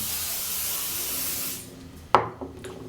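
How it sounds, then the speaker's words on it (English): Aerosol hairspray hisses steadily onto the top of polished curled hair for about a second and a half, then stops, followed by a couple of faint handling clicks. "So I'm just going to spray the top real quick"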